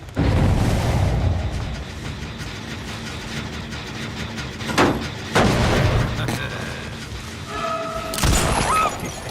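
Deathslinger firing at a Meg in Dead by Daylight: several sharp, loud bursts and a harsh shattering crack break through a dense, rumbling game soundscape, with one sharp impact midway and another near the end.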